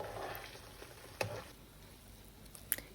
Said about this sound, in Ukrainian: І смажу цибулю